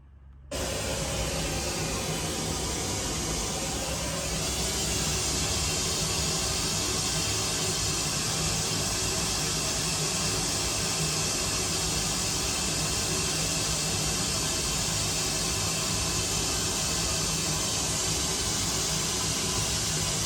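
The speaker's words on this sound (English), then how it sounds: "let's just turn on the white noise generator and see what happens" Steady white noise from a white noise generator played through Yamaha HS8 studio monitor speakers, a broad constant hiss switching on abruptly and continuing evenly and loudly throughout, with no talk.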